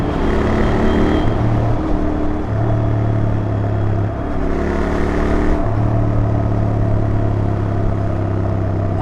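Twin-cylinder motorcycle with a stock exhaust idling and revving in traffic, a loud, close, steady engine drone with brief throttle blips rising and falling in pitch.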